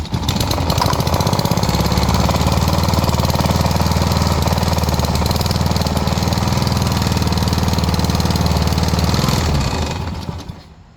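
Small engine running steadily after a throttle screw adjustment, a loud continuous rough drone at constant speed for about ten seconds before cutting out and fading at the end.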